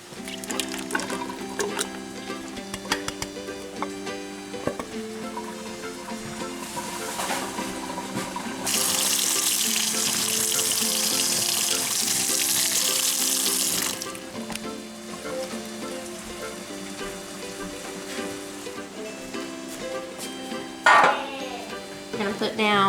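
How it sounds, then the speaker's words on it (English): A can of black beans is drained and rinsed under a running kitchen tap, a steady water rush of several seconds between clinks and handling noises, with music playing in the background. "Now I'm gonna drain and rinse this can of black beans."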